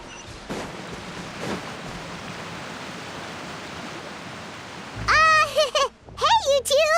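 Rain falls in Genshin Impact as a steady wash of hissing noise with faint rumbles, then a character voice speaks over it near the end.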